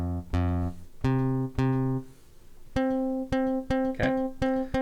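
A plucked string from Ableton Live's Tension synth, struck with a plectrum, repeats as a series of bright, twangy notes that decay quickly. The plucks come in an irregular rhythm and sound alone, with no talking.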